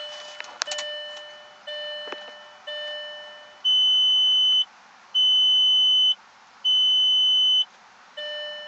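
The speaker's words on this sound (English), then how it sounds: "You get three beeps," A 1999 Audi A4 B5 Quattro's electronic warning chime, tied to its ABS module: short tonal beeps first, then three longer, louder steady beeps in an even rhythm, close and clear.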